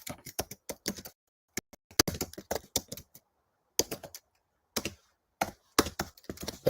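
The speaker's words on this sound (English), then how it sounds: "me furiously typing away." Fast bursts of keyboard typing, sharp clicking keystrokes in quick runs separated by short silent pauses, close up.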